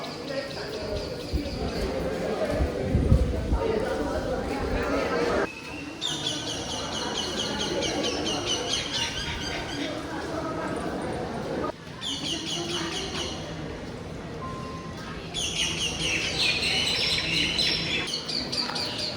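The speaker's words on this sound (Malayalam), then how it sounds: "പിന്നെ പക്ഷികൾ കരയുന്ന സൗണ്ട് ഉണ്ട്." Birds calling and chirping in a tree-planted temple garden in Thanjavur, bright repeated twittering that comes in bursts over a continuous outdoor hum.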